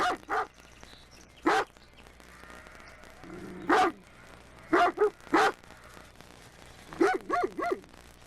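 Sheepdogs guarding a moving herd bark loudly and close by: single barks and quick pairs and triplets, irregularly spaced, over a quiet outdoor background with no talk.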